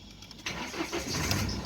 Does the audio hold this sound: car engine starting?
yes